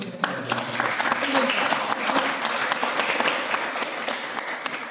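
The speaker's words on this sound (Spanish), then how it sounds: "Démosle un aplauso." Applause from an audience at a Spanish-language talk on wisdom, a dense wash of clapping lasting several seconds at steady volume, with voices mixed in beneath.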